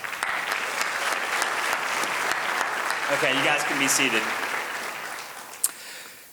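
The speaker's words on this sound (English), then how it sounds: "All right, now we can applaud." Steady, full applause from an audience fills the room at a chamber of commerce community award ceremony, holding strong for several seconds before tapering off as a voice speaks over the fading claps.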